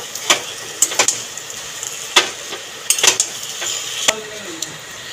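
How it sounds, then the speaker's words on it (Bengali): Hilsa fish head cooking with Malabar spinach in a pan, stirred with a metal spoon: a quiet sizzle under a series of sharp scraping clinks and knocks against the pan, irregular and close, with no voices. "নেড়ে চেড়ে মিশিয়ে নেব।"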